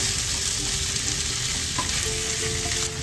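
Tomatoes with salt sautéing in a pan for Filipino salmon-head sinigang sa miso, a loud, continuous close sizzle with soft stirring scrapes and no voices.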